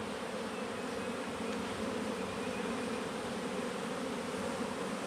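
A sparse colony of honeybees hums inside an underpopulated hive, the dense, even buzz staying close and constant from start to finish, with no speech.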